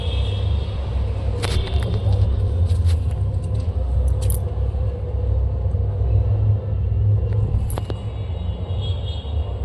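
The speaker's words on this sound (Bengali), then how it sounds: "বন্ধুরা কত জোরে বিদ্যুৎ চমকালো" Heavy thunder after a lightning strike rolls as a loud, sustained low rumble, with a few sharp clicks and rattles on top and no talking.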